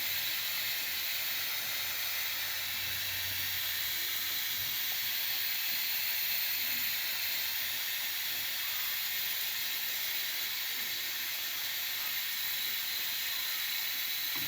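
Beef and potato singaras fry in hot oil, giving a steady, dense hiss and sizzle that runs unbroken and even in loudness, with no talking over it.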